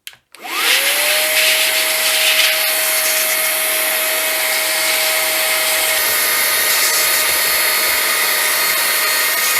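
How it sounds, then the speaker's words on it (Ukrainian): A small, cheap vacuum cleaner used to clean a laptop whirs loudly and steadily after switching on, with a rising whine that settles into a constant high pitch; no one talks over it. "з цього боку можна скористатися пилососом з насадочкою"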